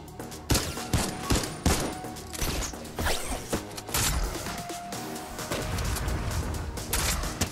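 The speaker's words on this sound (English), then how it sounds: "Proximity grenade launcher ready." Proximity grenade launcher firing in the Fortnite video game: a busy run of sharp shots, mechanical clicks and blasts in irregular bursts, fairly close and moderately loud, with no talking.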